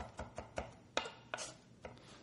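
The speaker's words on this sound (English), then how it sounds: "same type of chopping." A knife chops fairly large garlic cloves on a cutting board, giving about six sharp, distinct knocks at an uneven, unhurried pace, close and clear with no talking.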